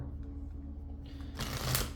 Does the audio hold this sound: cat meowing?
no